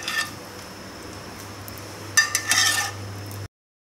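Boiled corn is stir-fried in a hot pan: a utensil scrapes and clinks against the pan in a brief cluster over a low, steady background hum.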